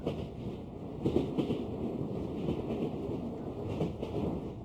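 Train carriage interior sound for an audio story: a steady low rumble of wheels on rails with faint rhythmic clatter and occasional swells, moderately quiet throughout.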